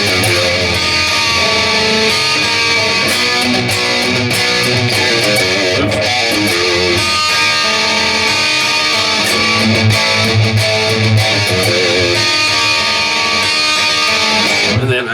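Electric guitar plays the pre-solo section of a song over a full, dense band mix, with steady loud distorted tone and busy low-end riffing throughout.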